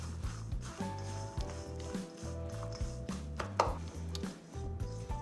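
Shredded-cabbage coleslaw being mixed in a bowl with a tablespoon of apple cider vinegar, giving soft, rhythmic, moist tossing and squishing strokes close by, repeated steadily throughout.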